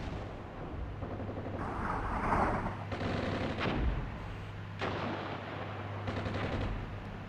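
Artillery fire in the Armored Brigade 2 war game, several distant booming blasts and rumbling impacts spaced out over a low steady background drone, no talking.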